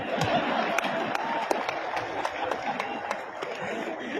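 A live comedy show audience applauds, dense steady clapping from a crowd in a hall, sustained and fairly loud throughout with scattered sharper claps standing out.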